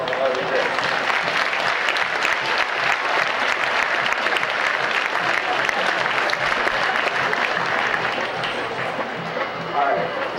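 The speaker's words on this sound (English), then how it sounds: "give those 3 women a big round of applause for what they did." Sustained applause from a county fair crowd at a 4-H coronation, thick clapping with a murmur of voices underneath, holding steady for about ten seconds before easing slightly.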